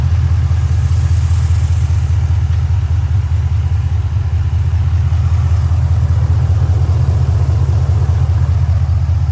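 2005 Pontiac GTO with a lightly modified LS2 V8 running steadily, a loud, deep, even rumble held close and alone throughout.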